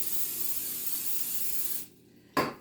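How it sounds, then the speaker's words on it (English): A continuous hissing cooking oil spray onto a pie shell for nearly two seconds, close and steady, then a pause and a short second burst. "spray the pie shell with the cooking oil"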